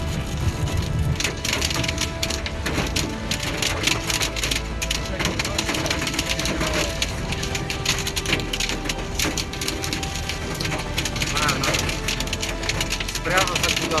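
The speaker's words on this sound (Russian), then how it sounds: "Нет, Это град." Hail pelting a car on a roadside stop during a river trip from Ust-Kut toward the Lena Pillars, a dense, continuous clatter of hard impacts on the body and roof, with voices talking over it.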